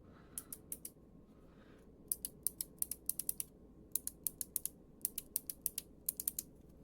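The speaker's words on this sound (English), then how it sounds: "These are like actual keyboard switches right here." Tactile keyboard switches on a custom Kramer Guitar Hero controller click in quick clusters of bright, sharp taps, close up and separated by short pauses, over a low steady hum.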